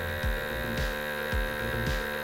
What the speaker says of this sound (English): It's now obviously sucking all the air out of it, making the package nice and tight.